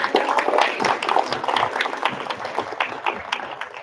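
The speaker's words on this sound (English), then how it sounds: "round of applause for our second" Audience applause at a district spelling bee for a speller, a steady wash of many hands clapping, loud and continuous through the whole stretch.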